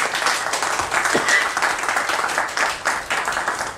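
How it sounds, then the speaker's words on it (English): Club members at a Toastmasters club meeting giving themselves a round of applause, steady crowd clapping filling the room throughout at even loudness. "So please give yourself a big round of applause."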